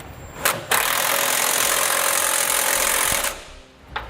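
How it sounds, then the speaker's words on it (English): An impact tool rattles hard as it snugs frame bracket bolts with a 19mm socket while a Curt custom fifth wheel installation kit goes onto a Ram truck, two quick bursts and then a long continuous buzzing run. "I'm going to use a 19mm socket and snug them all down"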